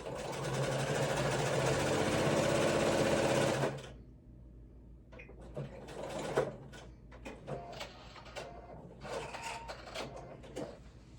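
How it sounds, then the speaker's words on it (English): A sewing machine stitches a card pocket in a fast, steady whirring run for nearly four seconds, then stops, followed by quieter handling rustles and paper sounds. "We're just gonna sew at first the 3 sides."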